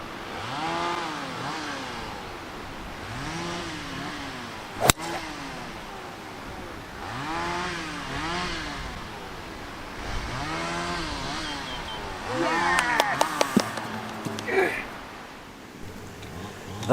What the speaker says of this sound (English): I think the chainsaw noise is appropriate.